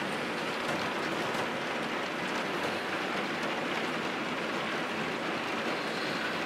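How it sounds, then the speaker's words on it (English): Rain falls on a rainy day outside a cat house, heard from indoors as a steady, even hiss that stays soft and unbroken throughout, with no voices. "rain coming down."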